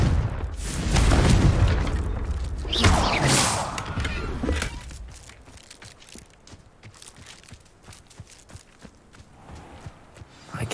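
A Confringo fire spell bursts in Hogwarts Legacy with a deep booming explosion and rumbling debris, followed by a tapering crackle and quieter footsteps and movement.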